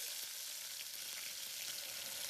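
Mustard seeds crackle in hot oil, a bright continuous sizzle full of tiny pops, close up and unbroken, with no one speaking.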